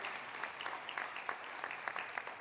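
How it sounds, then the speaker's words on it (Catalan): An audience at the 2021 presentation event for Catalonia's Hydrogen Valley claps steadily in a sustained round of applause, heard at a moderate distance and fairly soft. "un aplaudiment potser per remarcar-ho"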